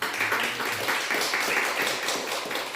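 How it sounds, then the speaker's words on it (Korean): Applause from a church congregation, steady and dense clapping throughout with no pause, fairly close and even in loudness. "우리 하나님께 영광의 박수 돌리시겠습니다"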